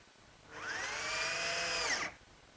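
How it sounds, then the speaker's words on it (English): A power drill drives a 1-inch drywall screw into an oak medicine cabinet in one short burst. The whine spins up quickly, holds steady for about a second and a half, then cuts off, close by in a quiet room. "And I'll fasten it in place using some 1-inch drywall screws."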